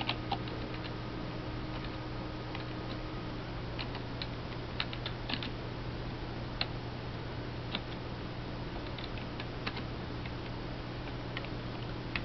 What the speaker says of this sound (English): I'm going to type in